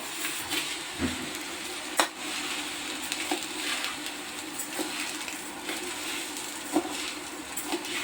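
Husked black gram dal dry-roasts in a pan over a slow flame for Andhra-style sunnundalu, giving a soft, steady rustling sizzle broken by a few sharp scrapes and clicks of stirring.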